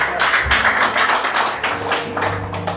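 Church congregation applause, a dense wash of handclaps that rises and falls in bursts over nearly three seconds, fairly loud and close, with no speech on top.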